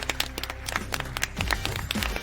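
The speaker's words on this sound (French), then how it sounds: "Des applaudissements pour le maire Arnaldo." Applause for Mayor Arnaldo at his birthday party, a dense spread of hand claps under the ongoing murmur of the crowd, with some scattered cheers, all fairly close and steady across the moment.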